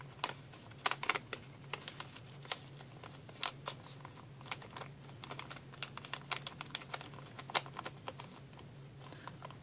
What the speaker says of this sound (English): fold the left side over to the right side,